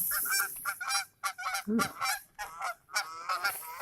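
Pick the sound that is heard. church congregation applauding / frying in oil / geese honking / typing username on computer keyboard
geese honking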